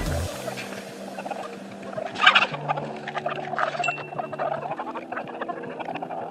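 Roosters and small bantam chickens cluck and call outdoors, scattered bursts of fowl chatter at moderate distance over a busy background.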